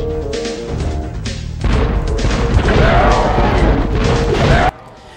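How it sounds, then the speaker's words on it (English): Cannon fire in the Spyro: Year of the Dragon boss fight against the sorceress: loud, dense booms and crashes run together over game music, then cut off abruptly near the end. "In order to fight the sorceress, you have to use these cannons that drop down."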